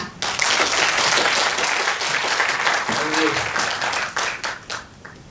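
An audience at a Korean school education forum claps after a student's speech, a dense burst of applause that starts abruptly, holds steady and then thins out toward the end, with a brief voice heard partway through.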